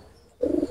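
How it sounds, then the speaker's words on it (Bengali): A Pakistani pigeon gives one short, low, close coo after a brief quiet moment. "কোয়ালিটি সম্পূর্ণ কবুতর"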